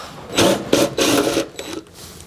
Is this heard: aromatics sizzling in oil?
no